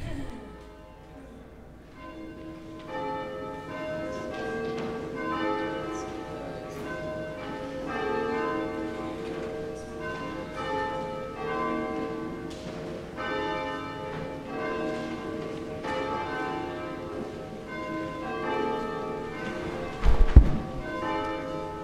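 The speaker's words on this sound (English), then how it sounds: "we begin our service with the ringing of the bells" Church bells ring continuously at the start of a Sunday church service, their overlapping tones sustaining and blending, with a single dull thump near the end.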